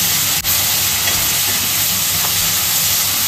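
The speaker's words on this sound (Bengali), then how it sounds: "এবার এগুলোকে একটু ভেজে নেব" A loud, steady sizzling hiss of tomato, chilli, garlic and ginger frying in a hot pan, continuous and close with no voices.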